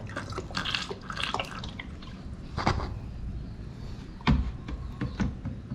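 Battery solution trickles and drips into a car battery's cells in uneven spurts, close by, with a few sharper splashes and clicks along the way.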